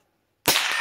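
A single sharp gunshot from a Savage Mark II rifle at an outdoor target range, a sudden loud crack after near silence, followed by a sustained ringing tail that fills the rest of the moment.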